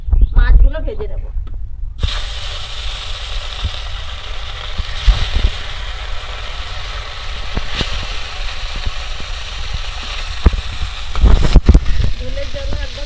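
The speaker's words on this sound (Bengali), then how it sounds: "তেল দিয়ে দিয়েছি, মাছগুলো ভেজে নেব।" Fish frying in hot oil in a wok, a loud steady crackling sizzle with sharp spits and pops, beginning suddenly after a brief quiet moment.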